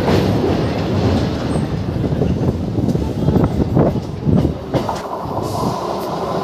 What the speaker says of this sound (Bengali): আমাদের ট্রেন এখন পার করছে মৌরিগ্রাম ফ্লাইওভার